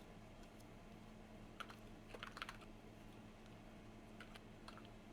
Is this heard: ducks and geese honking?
no